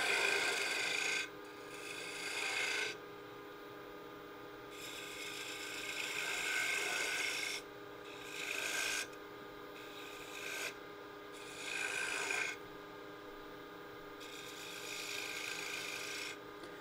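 A gouge on a wood lathe turns a cove on a wooden chess piece. It makes raspy, scraping cuts in repeated bursts with short pauses between passes, over the lathe's steady whine.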